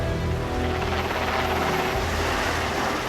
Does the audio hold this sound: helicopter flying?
yes